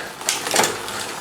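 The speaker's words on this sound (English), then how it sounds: "So just pedal that and click 1 gear." A kids' bike's gear shifting under pedalling, a short cluster of light mechanical clicks and ticks over a faint whirring drivetrain.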